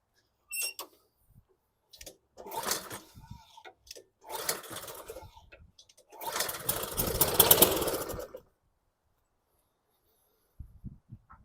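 Cheap used lawn mower being pull-started with the choke left fully open: three ragged bursts of engine noise, the last longest and loudest, then it cuts to quiet with a faint tick at the end.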